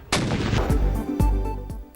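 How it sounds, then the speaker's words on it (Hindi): Ceremonial cannon fire for an Eid Milad-un-Nabi gun salute booms out in loud, sharp blasts about half a second apart, each followed by a rolling echo, with no talk. "विफाकी दारुल हुकूमत में 31 और सूबाई दारुल हुकूमतों में 21 तोपों की सलामी से दिन का आगाज।"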